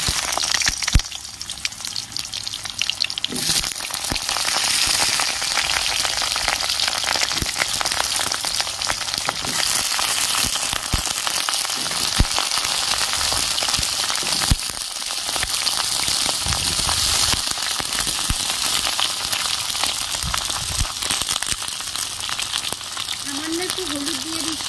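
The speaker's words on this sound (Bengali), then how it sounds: "এবার আমি পটলগুলো ভেজে নেব।" Pointed gourd (potol) fries in hot oil in a wok, a steady dense sizzle and crackle running throughout.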